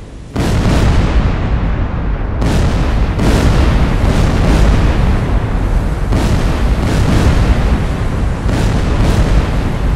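Secondary explosions from sunk aircraft carriers in the Silent Hunter IV video game: a dense series of loud booming blasts that overlap into a continuous rumble, with new bursts erupting every second or two and no voices.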